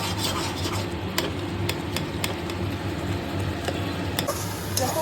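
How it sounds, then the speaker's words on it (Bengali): Masala spice paste being sautéed in a pan for stuffed pointed gourd with prawns, a constant gritty frying hiss with repeated light ticks and scrapes of a spoon stirring it. "দেখো অনেকটা কষিয়েছে আরও কষাতে হবে মশলাটা আরও কষতে"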